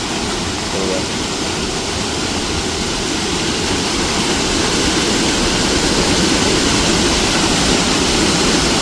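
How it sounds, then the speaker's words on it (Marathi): Loud, constant rushing of fast-flowing floodwater at a bridge during heavy monsoon rain in Dapoli-Khed, India, a dense roar close by without letting up. "पाण्याचं वेग लय आहे"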